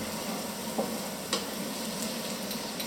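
Ratatouille with honey cooks in a pan over very low heat, giving a continuous soft sizzle with a couple of faint scraping stirs of a utensil through the mixture.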